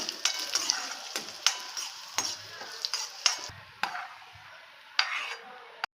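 Cashews roasting in a pan while a payasam of moong dal and pumpkin is made, with repeated sharp scrapes and clinks of a spatula over a soft, steady sizzle, close and without talk.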